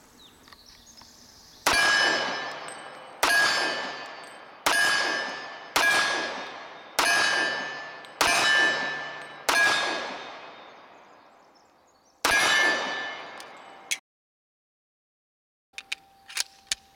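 An Iver Johnson Hawk polished Commander 1911 pistol with a cast frame is test fired from a two-handed hold, giving about eight sharp, loud shots at irregular intervals, each ringing out before a pause and a faint final click.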